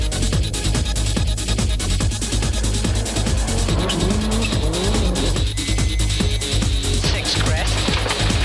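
A 1997 rally car races loudly on a Finnish gravel stage at Rally Finland, its engine roaring continuously while tires squeal and skid, with a commentator speaking over it.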